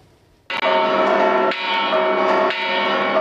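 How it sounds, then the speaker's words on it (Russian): The Dolores bell rings from a balcony over Constitution Square in Mexico City during the Independence Day ceremony. It sounds three loud, resonant strikes about a second apart, each one ringing on with a long sustained hum, and no voices are heard. "С балкона на площади Конституции, главной в Мексике и самой большой во всей Латинской Америке, раздается звон колокола Долорес."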